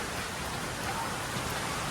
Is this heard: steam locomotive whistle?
no